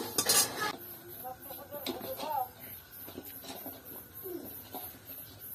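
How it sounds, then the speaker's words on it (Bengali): A wok (kadai) set down on a stove, with a sharp metallic clatter at the start followed by softer scrapes and clinks, with a voice speaking over it. "প্রথমে আমি উনুনে কড়াইটা বসিয়ে দিলাম।"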